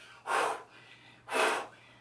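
Two heavy, forceful breaths about a second apart, close and clear, from someone doing fast lateral raises with 10-pound weights.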